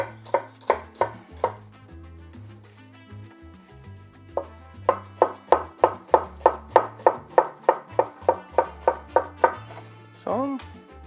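A knife chops raw onion on a board for a burger pico de gallo, with a quick run of sharp, even strikes, a short pause, then a longer, steady rhythmic burst.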